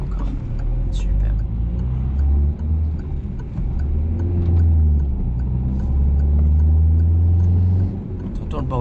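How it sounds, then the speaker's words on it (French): A car's engine rumbles and drones loudly while driving, the low hum swelling and easing, with a voice talking over it in French and a few faint rattles. "T'entends le bordel qu'elle fait ma voiture?"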